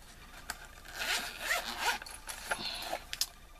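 A zipper on a pencil case holding Marco Raffine pencils is drawn closed, a close, quiet run of quick raspy zips with small clicks near the end, no one talking.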